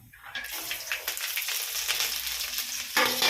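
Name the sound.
mustard seeds, lentils and garlic frying in oil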